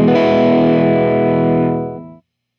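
A single electric guitar chord through a PAF humbucker with A5 magnets at full distortion rings out thick and sustained for about two seconds, then cuts off abruptly into silence.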